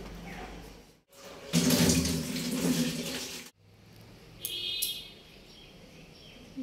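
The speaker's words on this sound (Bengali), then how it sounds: "স্নান পর্ব চলছে" Water runs from a tap during a bath, splashing in bursts separated by brief pauses, with a faint bird call in the background and no speech.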